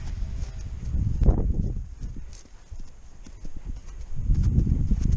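A horse's hooves clip-clop in uneven clusters on the ground, close and fairly loud, with a quieter lull in the middle before the steps pick up again, and no speech over them.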